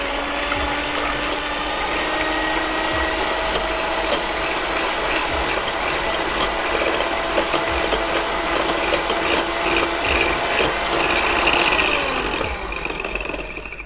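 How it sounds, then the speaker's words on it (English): Egg whites, four of them in a clean bowl, being beaten with an electric whisk for floating islands dessert, a steady loud motor whine with rattling and clicking against the bowl throughout. "whisking the egg."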